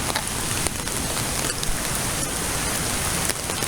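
Steady rain falls during a storm walk beside a swollen river, a dense, even hiss with scattered close drops, continuous and fairly loud with no talking.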